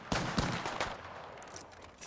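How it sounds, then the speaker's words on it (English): Rapid bursts of gunshots in the battle royale Apex Legends, several sharp close cracks in quick succession over the first second, then fading into lighter scattered fire and ambient noise. "Shooting! Getting shot at!"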